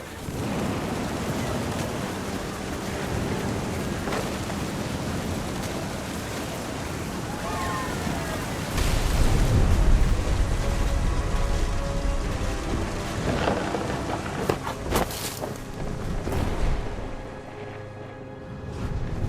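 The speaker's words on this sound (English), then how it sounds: "The thunder sounded much too close and full of angry power" Thunderstorm in the video game What Remains of Edith Finch, with steady heavy rain and rolling thunder swelling midway, a loud crack near the end and sea surf underneath, all continuous without any talk.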